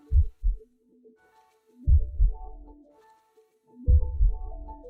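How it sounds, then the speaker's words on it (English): A slow, deep heartbeat pulses in the background of an animated film, with soft lub-dub double thumps repeating about every two seconds under a faint sustained tone. "A really slow heartbeat."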